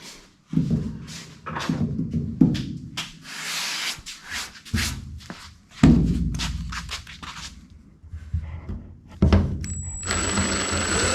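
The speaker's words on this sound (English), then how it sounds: "Ready for drilling." Power drill boring into the sail panel of a 1969 Dodge Charger R/T 440 during restoration, heard close up in several short, harsh bursts separated by pauses, with scraping and handling noises between them and a thin whine near the end.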